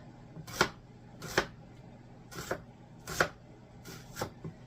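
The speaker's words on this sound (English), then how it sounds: "I'm slicing these kind of thin too." A knife slicing food thin for a hamburger steak bake, five evenly spaced crisp cuts against a board, close and fairly quiet over a faint low hum.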